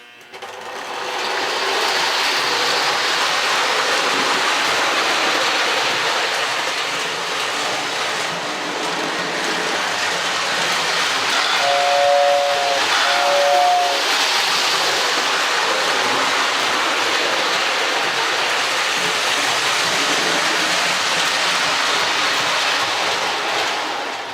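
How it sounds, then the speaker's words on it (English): A 1937 Lionel toy electric train runs continuously with a steady whirring, rattling hum, close and fairly loud, with a brief whistle-like tone partway through. "to start we'll fire up the train and run it"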